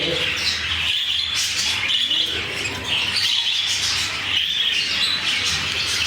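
German fellow birds in an aviary give a continuous chorus of high chirps and squawks, fairly loud and steady throughout, with no talking.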